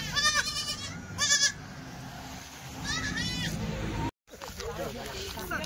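Young Kathiawadi goat kids bleating inside a vehicle, several loud wavering cries close by in short bursts, over steady background noise, with a short sudden dropout near the end.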